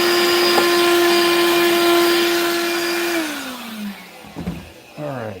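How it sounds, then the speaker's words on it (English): A vacuum cleaner hums loudly and steadily at close range, then powers down with a falling whine, followed by a few brief clunks and rustles. "I gotta vacuum again."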